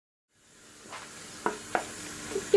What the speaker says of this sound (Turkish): 15 saniye daha kavuracağım.